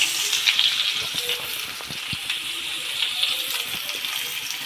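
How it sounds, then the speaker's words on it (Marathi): Chopped onion hits mustard seeds crackling in hot oil for an upma of semolina, giving a steady, close sizzle with sputtering pops that continues without talk. "मोहरी कडक आली की आपण यामध्ये कांदा टाकणार आहोत।"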